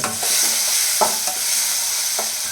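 Bombay bonda fritters frying in hot oil give off a loud, steady sizzle, broken now and then by the soft scrape of stirring, with no voices.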